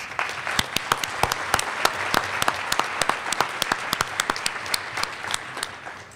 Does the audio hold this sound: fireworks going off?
no